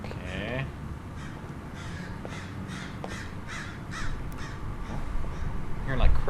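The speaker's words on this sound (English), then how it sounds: "I'm hearing like crows." Crows caw repeatedly in the ambience of the video game Liminal City, a creepy abandoned city, with a run of harsh calls spaced across the stretch over a low background rumble.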